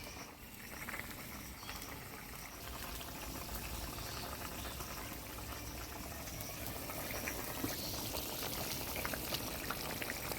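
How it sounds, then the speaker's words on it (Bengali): Rohu fish curry broth with raw papaya at a rolling boil in a pan, a faint, steady bubbling and churning that holds throughout. "ঝোলে বলক এসে গেছে"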